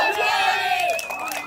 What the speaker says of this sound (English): Crowd behind him.